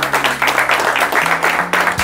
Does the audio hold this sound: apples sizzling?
no